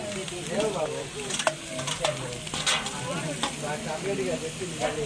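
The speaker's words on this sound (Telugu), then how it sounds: "ఈ బోటి ముక్కలు పోసుకోవాలి వేగిన తర్వాత" Goat tripe pieces frying in a pan with ginger-garlic paste and tomato make a steady sizzle, broken by scraping stirs and occasional clinks, with a faint voice in the background.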